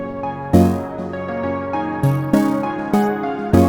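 Bright synth lead from the 80s Are Back preset, pitched up and EQ'd, plays a melody of sharp attacks over sustained layered tones with no one talking.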